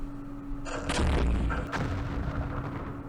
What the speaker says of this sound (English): Mortars. Oh, they know we're there.